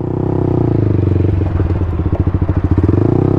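A 2020 Yamaha YZF-R125 motorcycle being ridden, its engine droning steadily and close, then pulsing into a rapid throbbing beat as the rider accelerates.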